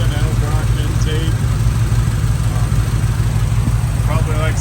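Fuel-injected engine of a 1980 Chevrolet K5 Blazer idling: a steady, low, even rumble that runs throughout and sits close and fairly loud, with faint voices now and then over it.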